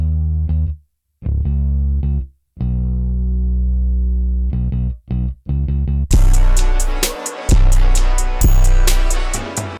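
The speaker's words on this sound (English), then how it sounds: "I added this bass preset from the Mix Essentials kit right here" A synthesized bass preset from the Mix Essentials kit plays in a guitar beat: deep sustained bass notes in short phrases with gaps, then a fuller section where the bass continues under brighter layered instruments.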